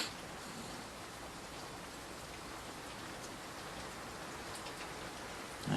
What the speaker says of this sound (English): So we've been getting freezing rain for a while